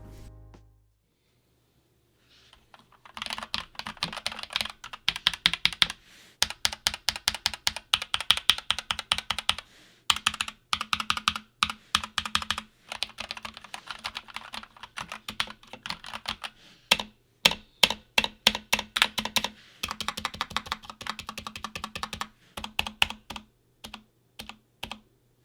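Fingers type on an Akko 3068 65% keyboard in rapid bursts of crisp, close clicking keystrokes, broken by short pauses, with no voices.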